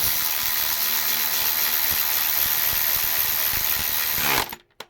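Power tool tightening the bolts on a Triumph Acclaim / Honda Civic starter motor: a steady, loud whirring buzz with ratchet-like ticks that runs unbroken for over four seconds, then cuts off abruptly.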